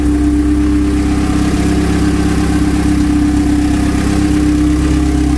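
Honda CRX engine runs at a steady idle, a loud, close, even hum with a slight uneven knock throughout and no voices.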